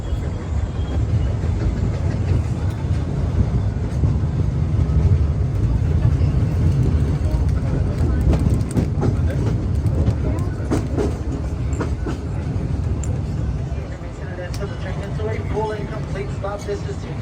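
Disneyland Railroad train rolling along at night, a steady close rumble with clicking rail joints and scattered rattles throughout, while a recorded announcement plays over it.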